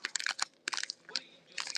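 Plastic and cardboard packaging crinkles and crunches as G.I. Joe action figures are unboxed. It comes close up in three irregular bursts with short pauses between them.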